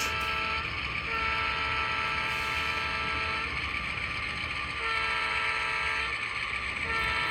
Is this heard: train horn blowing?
yes